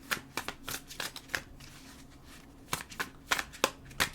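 Tarot cards are shuffled close up in repeated crisp riffling bursts, with short pauses between them and no talking.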